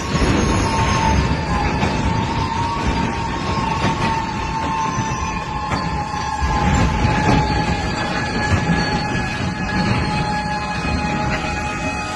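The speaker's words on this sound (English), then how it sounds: "A camera captured a cargo train derailment in Mexico while the locomotive was moving at high speed." A cargo train rumbles past at high speed in Mexico, a loud steady roar of rolling wagons with metallic screeching and clanking layered over it throughout, no voices present.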